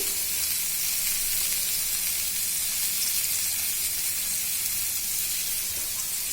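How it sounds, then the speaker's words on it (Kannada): Water heats to a boil in a pan for vermicelli upma, giving a steady, close, even sizzling hiss that runs unbroken throughout with no voices. "ಈಗ ಇದು ಕುದೀತಾ ಇದೆ ರೀ."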